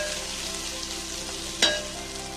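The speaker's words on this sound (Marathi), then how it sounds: "परत एकदा हे सगळं मी छान त्याचे हलवून घेतले" Sabudana khichdi mixture, sweetened with a little sugar and salt, being stirred in a pan: a steady low sizzle with one brief scraping sweep of the spoon, no voices.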